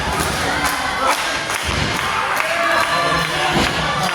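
A ringside crowd at a wrestling match cheers and shouts continuously, loud and dense, with occasional thuds from the ring mixed in.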